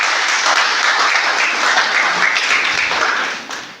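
A church congregation applauds at a worship service after a call to cheer for God, a steady, dense wash of clapping that holds loud throughout and tapers slightly at the end.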